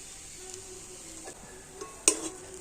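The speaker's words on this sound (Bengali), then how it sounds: "আমি সমস্ত মশলার সাথে তো আলুটা খুব ভালোভাবে নাড়াচাড়া করে নেব" Potatoes being stirred with spices in a pan, with a soft sizzle underneath and a few light scrapes and one sharp clink of the utensil against the pan.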